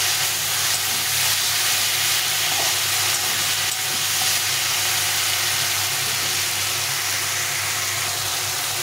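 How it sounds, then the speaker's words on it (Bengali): Fried bitter gourd and potato sizzle loudly and continuously as they are sautéed in spices and oil in a pan, a dense close-up frying hiss with no one speaking. "এখন আমি এই করলাটা, ভাজা করলাটা দিয়ে দেবো, দিয়ে আবার এটাকে ভালো করে কষিয়ে নিতে হবে"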